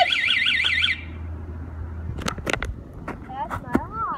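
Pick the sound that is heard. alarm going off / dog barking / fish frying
alarm going off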